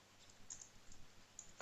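Keys clatter on a computer keyboard while text is entered in the VI editor, a quick scatter of light, quiet clicks close to the microphone, with no one talking.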